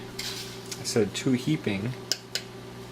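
A teaspoon scoops ground coffee into a cup, giving a few light metallic clinks and taps, the sharpest two near the end, while a person talks over part of it.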